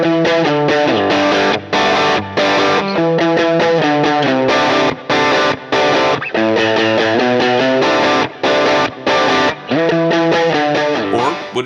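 Electric guitar through a hand-wired Vox AC30 tube amp, chiming with slight crunch, strummed chords and ringing notes in a steady rhythm, loud and up close.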